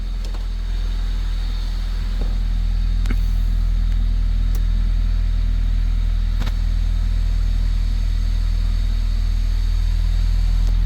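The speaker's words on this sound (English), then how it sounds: "Finally the engine started." A Honda Civic EG with an unidentified engine swap and a P28 ECU idles steadily after starting. The idle is a low, even hum with a few faint clicks and knocks over it, and no one speaks.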